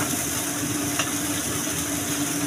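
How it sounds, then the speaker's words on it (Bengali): Mustard and poppy seed paste frying in a pan with a steady broadband sizzle throughout, one faint stirring scrape partway, no voices. "এখন ভালো করে নেড়েছে সবগুলো কষিয়ে নিতে হবে।"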